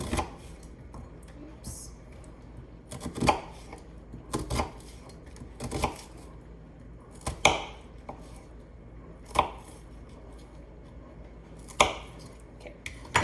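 Knife slicing an onion thin on a cutting board for fajita vegetables, a run of sharp, crisp chops in uneven bursts, close and fairly loud, with a voice speaking briefly between cuts.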